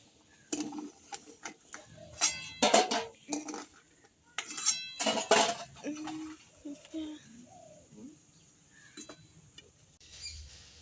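Boiled eggs lifted out of a cooking pot with metal utensils, a run of sharp clinks and scrapes in irregular bursts, close by, with a quiet voice speaking briefly in between.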